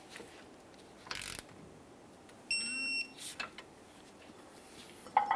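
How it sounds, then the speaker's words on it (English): Torque wrench tightening a leaf spring shackle bolt on a 2005-2010 Dodge Dakota: faint mechanical ratcheting clicks and short metallic clacks with a brief beep, fairly quiet against a low background hiss. "Torque this to 70 foot-pounds."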